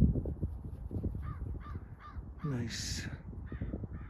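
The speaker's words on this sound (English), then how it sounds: "The crow on the tree." Several crows caw in a tree outdoors, a noisy group calling in short repeated bursts, fairly near, while a person talks over them.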